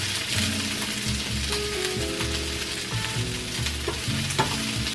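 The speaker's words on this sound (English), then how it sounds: "We got the onions" Onions sizzle steadily in a hot pan, a constant crackling hiss with occasional stirring scrapes and clinks close by.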